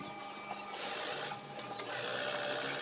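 A sewing machine stitches a trouser leg hem in steady, moderately loud running bursts that swell and ease with a brief pause midway, with no voices.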